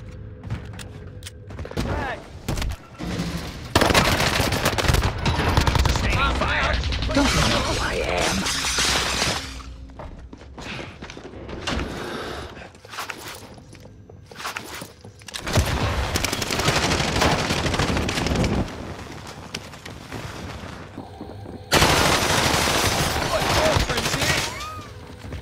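Rapid bursts of automatic gunfire and explosions from a Warzone match, loud and chaotic in repeated volleys over about 25 seconds, with players shouting under the shooting.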